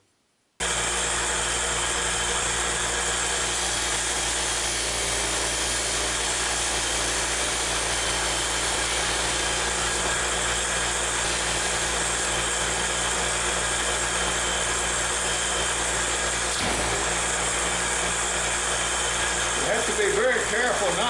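Knife blade for an aspen leaf skinner pressed against a finer-grit grinding wheel, a steady continuous whirring grind with a constant hum, fairly loud and close, unbroken for most of the span.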